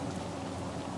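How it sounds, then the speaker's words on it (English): Rain in the game Cyberpunk 2077, a steady dense hiss of falling drops filling the whole moment without pause, no voices over it. "no, it is raining."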